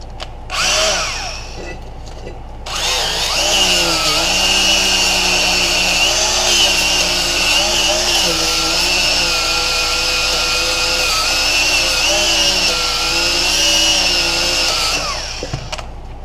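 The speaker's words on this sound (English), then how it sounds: "roll-lock disc, wire wheel, anything like that that you can use to get rid of this rust is what you want to use" A power tool fitted with a wire wheel grinds rust off the rear brake rotor of a 2007 Toyota Camry, a loud sustained whine with slight wavering pitch that runs continuously before spinning down, close and without talk.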